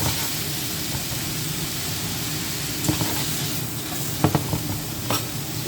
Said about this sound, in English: So we're giving these shrimp just a little bit of color here now.